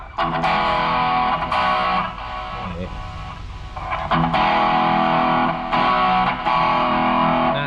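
An electric guitar with high-gain bridge distortion, boosted by a Boss SD-1 Super Overdrive pedal, plays thick sustained chords and riffs with brief quieter dips, loud and alone.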